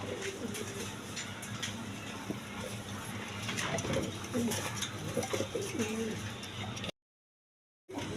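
Several Denis pigeons coo repeatedly nearby, soft throaty calls over a steady background hum, before the sound cuts out briefly.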